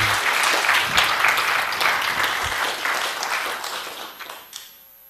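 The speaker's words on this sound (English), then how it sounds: "Let's give Misha a big round of applause once again." Audience applause closing an academic talk on deep learning theory, sustained dense clapping that fills several seconds before tapering off toward the end.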